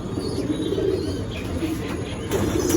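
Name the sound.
pigeons cooing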